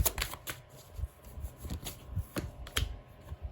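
Tarot cards being shuffled and drawn, a close run of quick riffling flutters and soft slaps at an uneven rhythm, with no voice.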